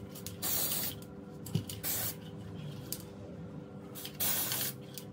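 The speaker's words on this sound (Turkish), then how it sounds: "Sprey zaten her tarafa yetişiyor." Aerosol spray paint is applied to stove parts in short hissing bursts, several separate sprays with pauses between, close and fairly loud.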